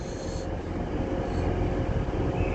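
A Metrolink tram rolls in at Manchester Victoria station, a steady loud low rumble and rail hiss that builds slightly as it nears, with no talk over it.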